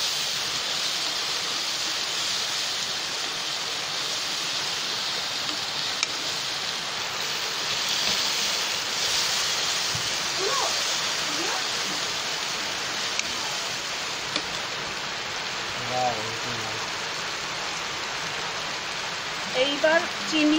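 Water poured into sizzling egg curry masala in a pan sets off a broad, steady hiss that lasts throughout, with a few light scrapes and clinks of a utensil near the end.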